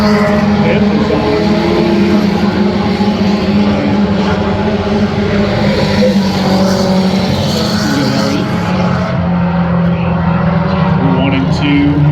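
Race cars roaring around the dirt oval at Adams County Speedway during a heat race, a loud continuous engine drone with shifting pitch as the field circles, under steady commentary.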